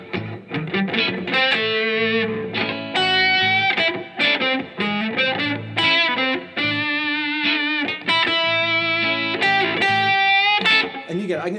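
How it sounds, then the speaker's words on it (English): A distorted electric guitar solo running through an A Mixo-Dorian blues scale, with fast, dense phrases and sustained bends played continuously and loud with no talk over it. "I'm going to turn on my distortion and stuff, and I'm going to take a solo of my A Mixo-Dorian blues scale"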